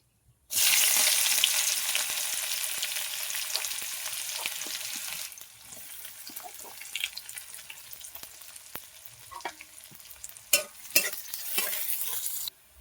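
Whole cumin seeds and onion hit hot oil in a pan with a loud, bright burst of frying that settles after about five seconds into a quieter crackle, with spoon scrapes and stirring knocks near the end.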